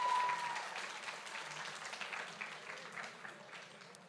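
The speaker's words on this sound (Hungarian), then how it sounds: "Nagy-nagy tapsot kérek szépen neki még egyszer." An audience at a fantasy expo awards ceremony claps steadily for the third-place winner, a dense round of applause that slowly fades, heard from a moderate distance.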